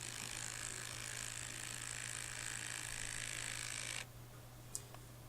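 A ratchet drives an M10 or M12 galvanised coach screw through a buckle on horse rail fencing, a steady continuous clicking whir up close that stops abruptly, followed by a single faint click.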